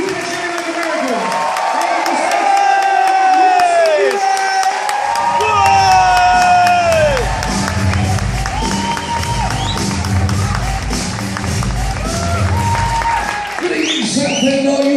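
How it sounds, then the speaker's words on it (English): A stand-up comedy club audience cheers and whoops loudly over steady applause, and the crowd roar runs on without a break. Shouted voices and music-like tones rise over it, with brief calls heard at the start. "We can cheer like America."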